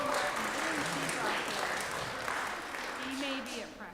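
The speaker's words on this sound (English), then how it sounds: "Bring another round of applause" Applause at an education department signing day ceremony, moderate and fairly distant clapping from a gathered audience, with voices talking over it throughout.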